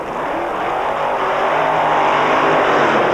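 Drag racing cars doing burnouts at the 1996 Santa Pod Summer Nationals, a funny car against a dragster: a steady, loud, dense roar of engines and spinning tyres runs unbroken throughout.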